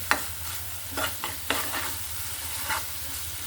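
Chicken meat is added to spice paste frying in a pan, giving a steady sizzle broken by several sharp scrapes and knocks of stirring, close up and with no talking.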